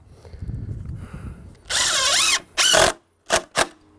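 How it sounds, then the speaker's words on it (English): A power drill drives screws into a deck board, with a long whirring burst, a second short run, then two quick trigger pulls, loud and close after some low shuffling. "Grab a couple of screws and set this board."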